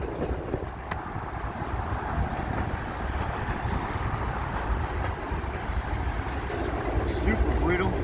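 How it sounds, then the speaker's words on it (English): Strong wind roars steadily across the microphone outdoors, a dense continuous rumble and hiss with slight surges and no pause. "really windy all of a sudden."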